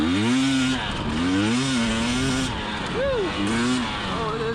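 A 2020 KTM 300xc TPI enduro motorcycle is ridden off-road. Its engine revs up and down in repeated wavering surges, loud and close, with a rider's voice faintly mixed in.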